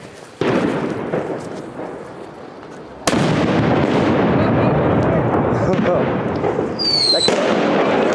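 A mass fireworks barrage at a Valencia street display: dense, continuous crackling and booming bursts that jump sharply louder partway through, with a whistling rocket near the end and voices among the crowd.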